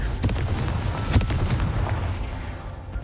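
Fiery explosion from the Confringo blasting spell in the game Hogwarts Legacy, a few sharp booming bursts followed by a rumbling roar that gradually fades away.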